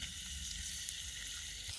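Food dipped in a taco seasoning marinade sizzles steadily as it fries, a continuous close hiss with no breaks and no talking.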